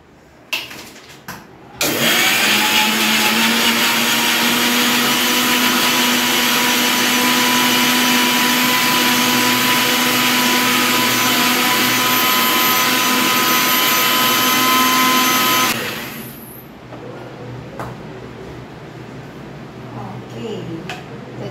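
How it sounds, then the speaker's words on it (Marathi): A kitchen mixer grinds chili, coriander, yogurt, sugar and salt into chutney with a loud, steady high-pitched whine for about fourteen seconds. It starts with a sharp spin-up and winds down at the end, and a few clicks sound before it. "मिरची, कोथिंबीर, दही, साखर आणि मीठ हे सर्व बारीक करून घेऊ."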